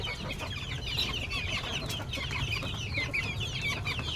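A flock of one- to two-month-old chicks clucking and peeping continuously while pecking at leftover cooked rice, a dense, close chorus of overlapping chirps with no speech.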